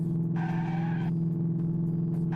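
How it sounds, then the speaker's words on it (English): A car engine drones steadily with a brief tire screech partway through, sounding flat and synthetic like game audio. "This must be the worst car chase in video game history"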